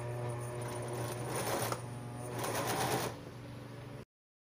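A sewing machine runs steadily, stitching a seam on fabric for a long-waisted dress, with a constant motor hum and two brief louder bursts of stitching before it stops abruptly.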